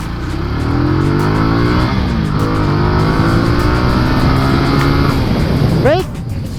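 SKYGO Magnus 200 motorcycle ridden at 60 km/h, a steady loud engine drone with rising and falling pitch throughout, easing off near the end as a brief squeal cuts in; a voice talks over the ride.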